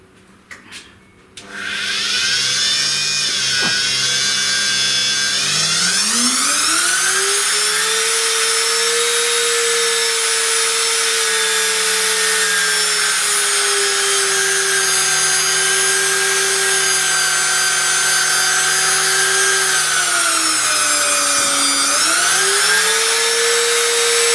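A 1.25 hp air-cooled spindle on a 6050 Plus CNC router switches on and spins up to a loud, steady high-pitched whine, dipping briefly in pitch near the end before settling again, with no talking.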